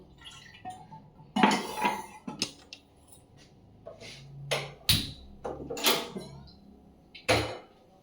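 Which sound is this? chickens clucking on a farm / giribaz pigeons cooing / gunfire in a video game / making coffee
making coffee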